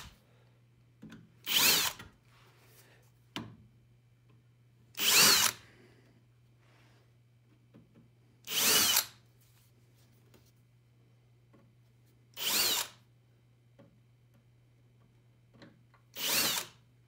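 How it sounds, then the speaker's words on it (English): Power drill drilling out rivets on a car's T-top: five short, loud bursts of drilling spaced a few seconds apart over a faint steady hum, no voices. "All the rivets are drilled"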